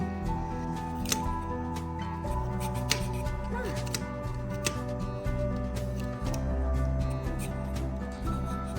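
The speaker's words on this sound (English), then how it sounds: "Chop it off, but first I'm going to peel it." A raw sweet potato is peeled by hand, producing a series of close, irregular scraping clicks and short strokes over a low, steady background hum.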